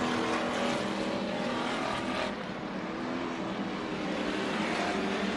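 Race cars roar around the oval at Bakersfield Speedway, a dense, steady wall of engine noise with several cars running close together, loud and continuous with a brief dip in level midway.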